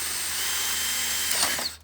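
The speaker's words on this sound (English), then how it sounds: "When you screw in, especially if you have it on the drill setting, it wants to jump away from you" A power drill whirs and ratchets as it drives a screw into a black plastic crate, a steady mechanical grind for over a second that swells briefly louder near the end before cutting off.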